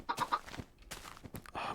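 Chickens cluck in short, irregular bursts, fairly faint and close, with some shuffling movement between the calls.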